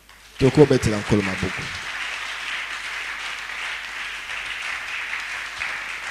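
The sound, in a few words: congregation applauding, acclaiming the Lord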